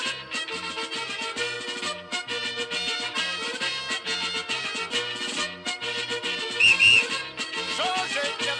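A sharp whistle blast during a broom dance party game, cutting briefly through loud accordion dance music near the end.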